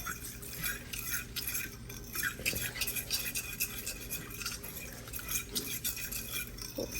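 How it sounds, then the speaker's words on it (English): Gravy for cube steak is stirred in a hot pan, a utensil scraping and clinking steadily against the metal in a continuous, close, busy rhythm with no talking. "so just keep stirring it and make sure there are no lumps or anything in there"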